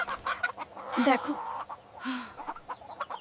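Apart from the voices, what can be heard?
chickens clucking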